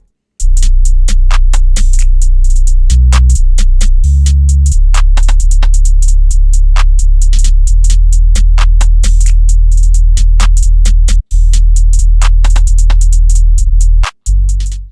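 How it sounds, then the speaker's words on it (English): Full trap drum pattern built in FL Studio, a loud continuous sub-bass 808 under snappy snares and rapid hi-hat rolls, with brief dropouts near the end, playing alone without any voice. "All together, the drums sound like this."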